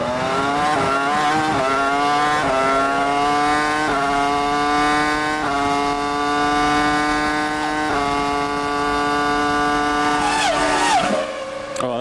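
Formula One car engine at the 2002 Canadian Grand Prix, Montoya's Williams: a loud, close high-pitched V10 scream climbing through rapid gear changes in repeated upshift steps, sustained throughout, easing briefly near the end.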